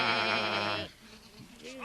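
A sheep lets out one loud, drawn-out wavering bleat lasting under a second, followed by a short quieter bleating sound in a puppet fairy-tale scene.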